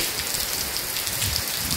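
Heavy rain pours steadily in Ongole, a dense, even hiss of drops hitting surfaces, close and continuous with no pauses.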